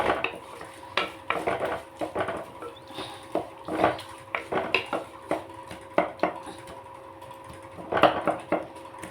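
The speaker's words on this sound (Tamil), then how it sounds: "ஒரு 2 நிமிஷம் நல்லா வதக்குங்க" Tomatoes with rock salt being sautéed in a pan, with rapid repeated scraping and clattering of a spatula against the metal over a soft sizzle, close and busy throughout, no voices.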